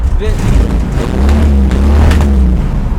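A Ford Falcon wagon's engine revs loudly and steadily, its low rumble rising and falling in pitch over a few seconds, close to the microphone.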